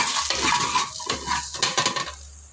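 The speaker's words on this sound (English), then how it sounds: "First I add the ginger and then it's ginger and garlic. So I'll fry it for a little while." Ginger and garlic sizzle and crackle steadily in a hot pan, with a few clinks of a utensil stirring against the metal.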